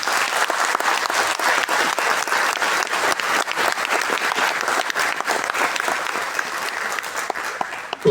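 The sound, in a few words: audience applause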